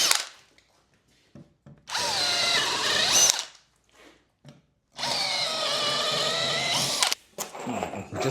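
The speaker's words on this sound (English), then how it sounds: "I'm going to use a counterbore which has got a 6mm pilot" A drill driving a counterbore bit with a 6mm pilot into a timber stud wall, two sustained whining bursts of about one and two seconds, close and loud, with short quiet gaps and small knocks between.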